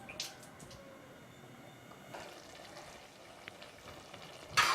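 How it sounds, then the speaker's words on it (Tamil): Mutton biryani rice and water boil in an open pressure cooker, giving a faint, steady bubbling sizzle with a few sharper pops and clinks. "இன்னும் 1 நிமிஷம் கொதிக்கணும்."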